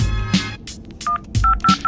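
A telephone keypad being dialed, giving a quick run of short DTMF beeps in an uneven rhythm over a low background hum, close and clear with no voices.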